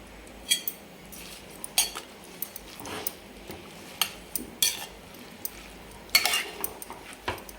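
Broken rice grits being stirred into sorrel leaf vegetable cooking in a pot, a spoon scraping and clinking against the metal in irregular, moderately close strokes with no talk.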